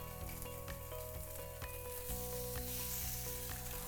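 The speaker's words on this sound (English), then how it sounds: "when you place it on the hot pan, start cooking. And you want to hear that sizzle sound." Pork chops sizzle in oil on a hot pan, a steady close frying hiss with small crackles and occasional utensil taps, no talking.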